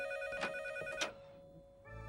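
A telephone rings in a home alongside a doorbell, giving a steady electronic ringtone with two bright bursts, a pause, then a fresh ring starting near the end. No one speaks.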